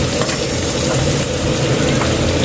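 Garlic sizzling steadily in hot oil in a wok (kawali) while cooking bangus (milkfish), a dense continuous crackle and hiss up close with no pauses or talk.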